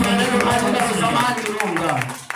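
Congregation at a church service clapping, a dense burst of hands with voices and singing-like talk mixed over it, fading near the end.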